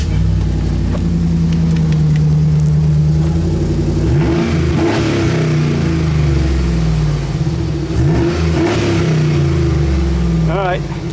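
A 2011 GMC Sierra with a straight pipe and no muffler idles loud and close, then revs sharply twice with a raw, rumbling roar, while people talk.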